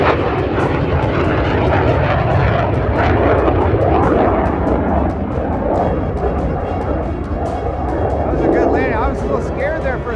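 A loud, continuous jet roar fills the air as a Boom XB-1 supersonic test aircraft comes in to land after a short first test flight. The roar holds steady throughout, with people talking over it.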